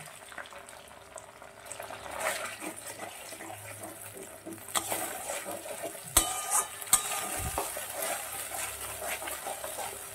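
A spice paste of cumin, coriander, ginger and green chili with poppy seed paste sizzling in hot oil in a pan, a soft steady fry with scraping stirs and a few sharp clinks of a spoon.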